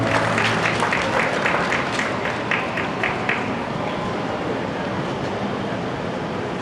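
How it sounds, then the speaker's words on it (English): Crowd applause during a Waikiki beach walk event in Honolulu, Oahu, a steady wash of many hands clapping that carries on without a break, loud and dense, then thins slightly toward the end. "Nice round of applause."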